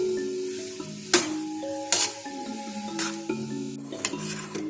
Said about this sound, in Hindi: इसको अच्छे से फ्राई कर लेंगे और साथ साथ चम्मच चलाते रहेंगे